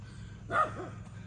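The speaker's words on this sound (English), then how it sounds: "The dogs are barking." A single short dog bark with a quick follow-up yip, somewhat distant over a steady low background hum of a neighbor's grass cutting at a homestead garden.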